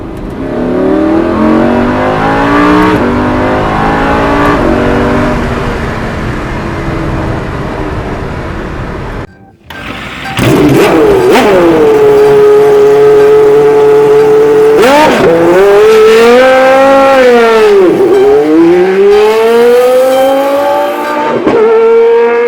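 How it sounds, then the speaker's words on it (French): A Lamborghini Huracan's V10 engine revs loudly and close, first a sustained high drone, then after a brief pause a series of sharp climbing and falling revs that sing out repeatedly. "Et puis le son de ce V10 quoi, est magnifique"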